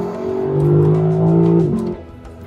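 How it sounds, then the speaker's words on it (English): A Lexus LC V8 revs up under hard acceleration, a loud close rising engine drone that holds and climbs before dropping off abruptly with faint crackles. "You can hear that V8 coming alive a little bit."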